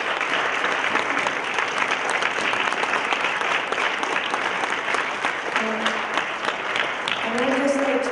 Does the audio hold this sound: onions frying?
no